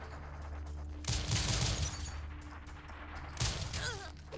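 Gunfire in the side-scrolling shooter Rise & Shine: two loud bursts of rapid shots with crashing impacts, set against a steady background hum.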